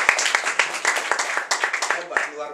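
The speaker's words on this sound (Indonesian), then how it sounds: "Tepuk tangan buat pernyataan ini." A congregation at a Pentecostal funeral comfort service claps in quick, rhythmic bursts, the pattern fairly close and mixed with voices talking over it.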